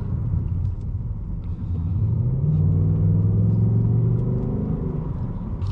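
Ford Mustang GT V8 engine heard from inside while driving, a steady deep rumble that swells slightly as it pulls, with no talking.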